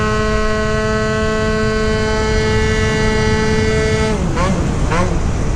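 A Malaguti Phantom F12 racing scooter engine droning at a loud, steady high pitch rich in harmonics, then dropping and revving up and down near the end. Close and dominant throughout.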